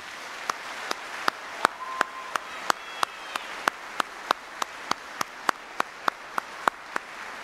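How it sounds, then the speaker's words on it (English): Slow, evenly spaced claps ring out at a June 2023 Department of the Army retirement ceremony honoring families, each crisp clap clearly separated over a quiet room tone. "So please, let's give a round of applause to all the families."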